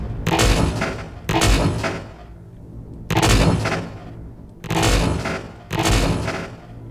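A hover tank in a video game firing heavy rounds, five loud, booming blasts spaced about a second and a half apart, each with a long rumbling tail, and no talking.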